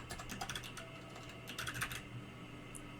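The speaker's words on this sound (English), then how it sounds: "I'm just going to type in a photo of Nick Danneman" Rapid bursts of typing on a computer keyboard, entering text into an image-generation prompt, with clustered keystrokes near the mic and short pauses between runs; no one speaks.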